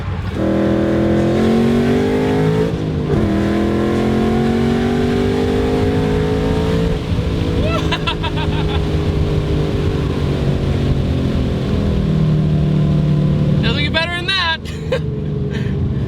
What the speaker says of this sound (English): this is my first twin screw supercharged S550 I've ever driven